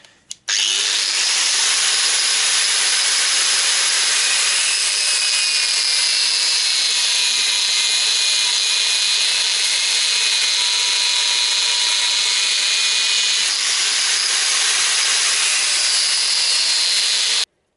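A 2–3 mm thick metal plate piece for a Citroën Traction 11 front axle part is cut with a loud, steady power tool, a continuous whining grind running uninterrupted for about seventeen seconds with no talking.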